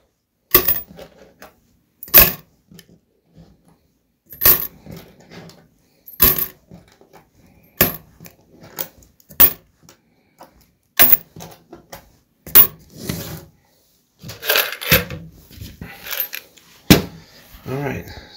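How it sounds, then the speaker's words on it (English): Non-penny coins and a couple of dollars drop into a container, a series of sharp metallic clinks and rattles repeating irregularly, loud and close with brief pauses between handfuls. "This is all my non-penny coins."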